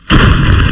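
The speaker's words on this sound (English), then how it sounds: "These Russian southern military district artillerymen are firing towards Robotin and Verbov" A Russian 2A36 Giatsint-B towed howitzer fires in Zaporizhia, Ukraine: one very loud, close blast that hits suddenly and rumbles on heavily.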